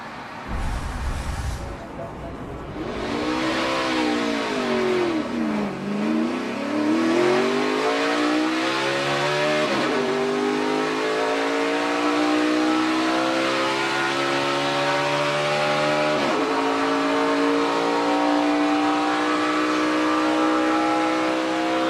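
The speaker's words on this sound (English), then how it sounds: "Engine rev up like that. A lot of power in these race cars." A race car engine revs hard and climbs through several gear changes during 2016 GEICO 500 qualifying, pitch rising and dropping with each shift, loud and continuous.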